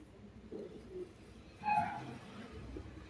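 Ice-quality pigeons, young birds on sale, give a soft, low coo around the middle, with quieter birdlike murmurs before and after and no talking.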